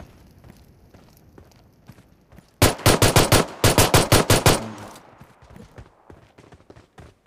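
M416 rifle firing in the BGMI battle royale game, a loud rapid automatic burst of about a dozen close shots with a brief break mid-burst, set between quieter footsteps and game ambience.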